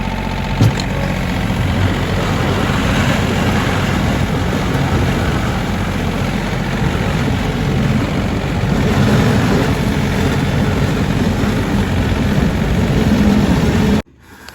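Steady, loud engine drone from a tractor running at constant speed in snow, a continuous low rumble with no talk, cutting off abruptly at the very end.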